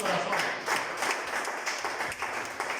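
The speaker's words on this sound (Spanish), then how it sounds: "apláudele con todo su corazón" A church congregation claps steadily in continuous applause, a dense crowd sound of many hands with no voices standing out.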